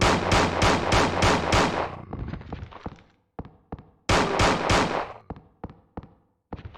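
Rapid bursts of gunshots from the video game Resident Evil 2, loud and close: a quick string of evenly spaced shots, then scattered single shots with echoing tails, another fast burst and a final lone shot.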